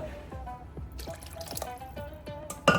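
Water drips and trickles into a pan of steamed Nargisi koftas, a string of soft close splashes and droplets with a slightly louder pour near the end.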